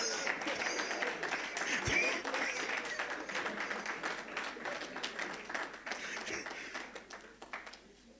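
An audience at a university research chair launch and anniversary celebration claps steadily in a dense, sustained round of applause that fades slightly toward the end, with some voices mixed in.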